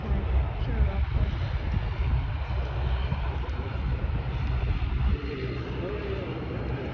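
A passing airplane at Vancouver International Airport gives a steady, loud broadband roar held for several seconds, thinning slightly near the end, with wind noise and a voice speaking over it.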